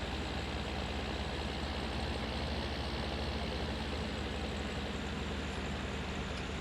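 Tractor engine in the Farming Simulator 19 video game running at a constant, heavy low drone, loud and unbroken throughout with no change in pitch.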